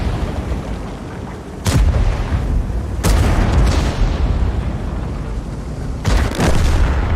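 Heavy booms from tank cannon fire and explosions in a World of Tanks battle, three sharp loud blasts spread over a constant rumbling battlefield background.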